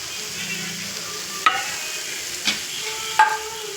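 Puttu fries in oil in a pan and is turned with a spatula. A soft, steady sizzle runs throughout, broken by three short clicks of the turning, with no talking.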